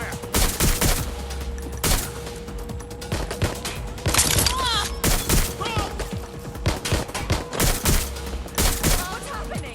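Gunfire in the video game Watch Dogs: Legion, repeated bursts of automatic shots and scattered single cracks over roughly ten seconds, loud and close, mixed with impacts and game effects.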